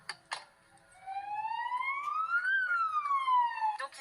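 An ambulance siren on a Belgian road wails in one long smooth rising then falling sweep, loud and steady, heard from the following vehicle with brief noises before it starts.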